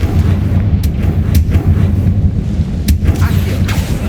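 A Confringo fire spell blast in Hogwarts Legacy, heavy rumbling booms over a loud, continuous low roar, with a few sharper cracks layered on top.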